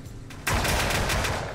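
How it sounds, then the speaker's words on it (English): Gunfire in the VR game Hover Junkers: after a brief shot, a sudden loud burst of rapid, repeated shots rattles on with a rough, dense rhythm and slowly eases off. "Brandon's behind you. He's shooting at you."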